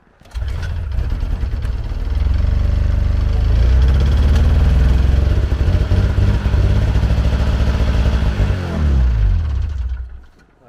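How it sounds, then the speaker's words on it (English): A Ski-Doo snowmobile on a bitterly cold day is pull-started and its engine catches, running with a loud, steady, close rumble for about ten seconds before cutting out. "nothing takes the wind out of you like trying to pull over a sled that doesn't want to start."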